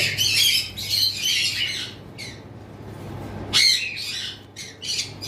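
Red-eye albino cockatiel squawking up close, harsh shrill bursts in quick clusters, a short pause, then another loud run of squawks.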